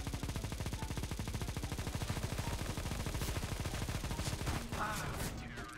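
Rapid automatic gunfire from CS:GO rattles in a fast, even stream of shots for nearly six seconds, loud and close, with no talking over it.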